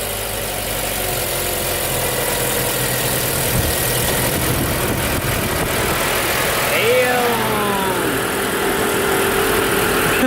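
A Toyota Corolla engine turns over and settles into a steady idle, a low continuous rumble that keeps running to the end, with people talking over it.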